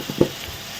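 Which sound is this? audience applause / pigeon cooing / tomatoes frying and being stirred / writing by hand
tomatoes frying and being stirred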